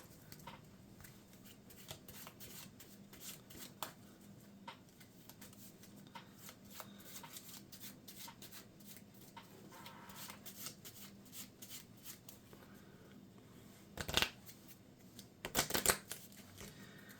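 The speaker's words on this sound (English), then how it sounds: "Those 3 cards get shuffled into the encounter deck." Cards from a Marvel Champions encounter deck are shuffled by hand, a long run of soft rapid riffling clicks ending in a couple of louder bridging riffles, close and quiet with no talking.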